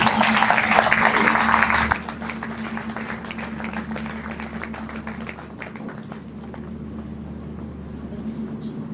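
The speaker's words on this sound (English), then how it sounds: "Another round of applause for our guest speaker." Applause from the audience at a young professionals' mentoring event greets the guest speaker, loud for the first two seconds and then dropping to a thinner patter of claps over a steady low hum.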